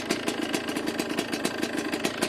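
A Yamaha Blaster ATV engine runs at a held throttle, a close, loud, evenly pulsing rhythmic beat throughout with no talk.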